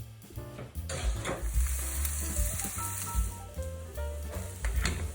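Halved Brussels sprouts set cut side down on a preheated olive-oiled tray, hissing in a loud continuous close sizzle with a low rumbling undertone and occasional pops.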